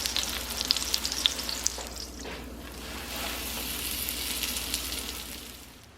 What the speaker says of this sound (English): I'm going to turn it over, brown the other side.